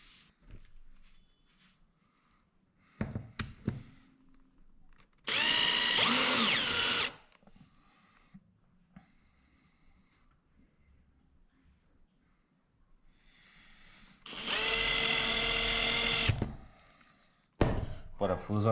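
Power drill driving screws into the iron frame of a homemade pool table, two loud sustained whirring bursts of about two seconds each with quieter handling noises and pauses between.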